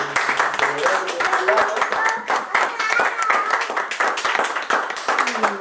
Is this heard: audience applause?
yes